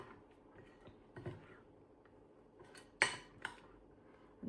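A spoon scrapes and knocks against a bowl while cookie batter is mixed with added colour, giving sparse, faint clinks and taps with a couple of sharper hits in a quiet room.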